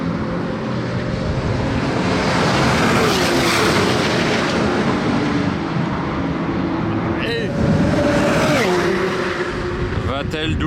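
Supercars including a Ferrari 488, McLaren P1, Ferrari F8 and Senna race flat out down the straight at Circuit Paul Ricard, a sustained loud engine roar with cars sweeping past near the microphone, one sharp pass late on, while someone talks over it.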